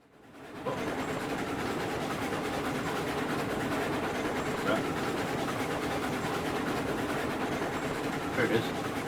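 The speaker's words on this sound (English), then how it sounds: "I hear the passenger train." A passenger train rolls past in the railroad game Railroads Online, a steady, dense rumble of wheels and rail noise holding at constant loudness for the whole stretch, with a couple of faint clanks near the end.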